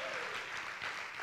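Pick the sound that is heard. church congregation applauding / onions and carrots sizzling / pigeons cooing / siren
church congregation applauding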